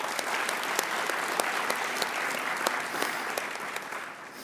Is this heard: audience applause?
yes